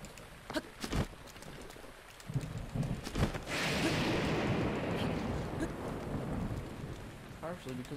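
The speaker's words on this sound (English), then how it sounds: "Partially because it's raining." Steady rain falling in The Legend of Zelda: Breath of the Wild, a broad hiss that swells and holds loud for the second half, with a few sharp knocks and thuds in the first few seconds.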